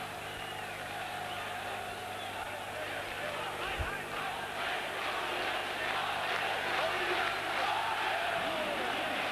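A boxing crowd in Veles, Macedonia, roars and cheers in a steady, fairly distant wash of noise, with a commentator's voice talking over it and a brief thump partway through.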